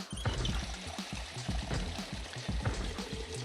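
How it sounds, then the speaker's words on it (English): Water filling a bottle in the Project Zomboid video game, a soft, steady pour with gurgling bubbles and a trickling rhythm, faint and close, with no talking over it. "we are going to use this bottle for water. So let's fill that up."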